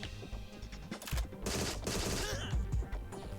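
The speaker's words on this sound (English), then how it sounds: "It's basically a PP7 type thing and a submachine gun." Rapid submachine gun bursts from the first-person shooter Agent 64, a Goldeneye 007 homage, firing in dense overlapping volleys with game effects, fairly loud and continuous across the short stretch.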